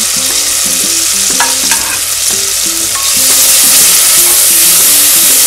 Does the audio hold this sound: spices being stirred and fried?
yes